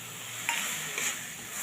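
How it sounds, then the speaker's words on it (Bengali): Tomato, ginger, garlic and spices such as cumin powder, Kashmiri chilli and turmeric fry for mutton curry, giving a quiet, steady sizzle with a couple of soft stirring touches and no voices. "এবার সব দিয়ে আমি খুব ভালো করে কষিয়ে নেব"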